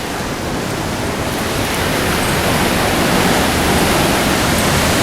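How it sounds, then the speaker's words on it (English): A waterfall pours over a cliff in Canada, making a loud, steady, close-up roar of rushing water that never lets up and has no voices over it. "it goes right there over the cliff into that waterfall"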